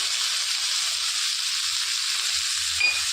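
Chopped tomatoes with tamarind and turmeric frying in a pan for a ridge gourd coconut chutney, making a steady, close sizzle that holds evenly, with a faint clink near the end.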